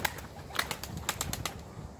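A homing pigeon being released for a flight, its wings flapping in a quick series of sharp, papery bursts close by, with faint coos and outdoor ambience between the beats.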